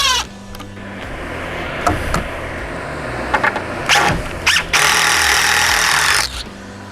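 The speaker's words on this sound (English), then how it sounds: "pre-drill this one, get this screws going" A power drill runs in several short bursts, then in a longer sustained one, driving screws into wood for a garden archway, close and loud with no talk.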